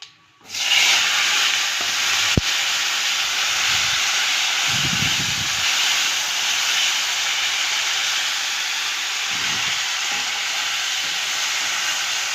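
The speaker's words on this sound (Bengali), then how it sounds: "টমেটোটা হালকা ভেজে নেব" Chopped tomatoes hit a hot pan with cumin seeds, bay leaf and salt, giving a loud, continuous sizzling hiss with occasional stirring scrapes, close up and without speech.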